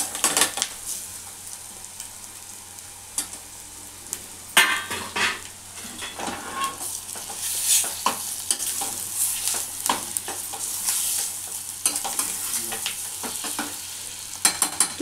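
Onions fry with pulla gongura in a pan on a stove, sizzling steadily while a utensil stirs and scrapes against the pan in close, irregular strokes.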